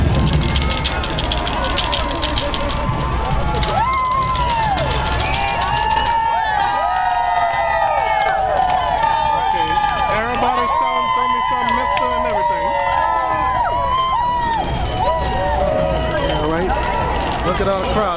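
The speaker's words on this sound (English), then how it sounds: "Everybody's shouting, "Throw me some, mister."" A parade crowd shouts and cheers continuously, many voices including children calling out to the passing floats, with loud overlapping yells and someone talking up close over the din.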